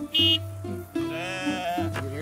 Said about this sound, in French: les moutons se sont échappés